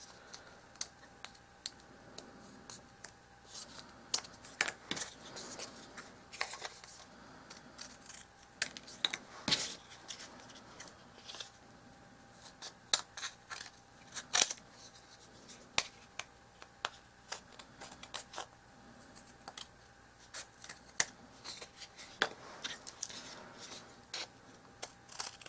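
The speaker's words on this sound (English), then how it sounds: "we are going to first trim off the extra paper that comes past the fronts" Paper for a dollhouse miniature stove is trimmed with small snips and cuts, producing faint, scattered crisp clicks and snipping sounds at irregular intervals over a quiet background.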